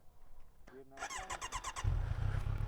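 A motorcycle engine started in neutral, cranking with squeaky whirs before it catches and settles into a low, steady idle. It sits close by, with people talking nearby.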